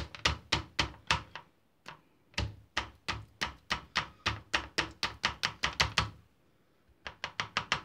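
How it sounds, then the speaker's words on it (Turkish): Knife slicing food on a cutting board before grilling, a fast, even run of crisp taps in close succession, pausing briefly twice, close and clear with no talking. "Dilimliyorum."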